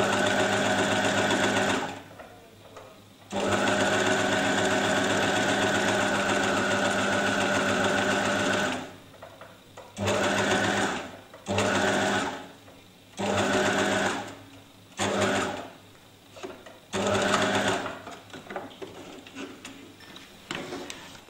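A sewing machine stitches a seam with the presser foot's edge lined up along the fabric edge. One long steady run is followed by several short bursts with brief stops between them, loud and close.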